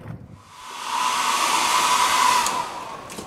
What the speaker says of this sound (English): First time this hair dryer's been used in a couple of years.